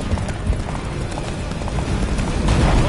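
Roach, Geralt's horse in The Witcher 3, gallops hard in a rapid, loud clip-clop of hooves that stays steady and close throughout, with a faint whinny mixed into the rush.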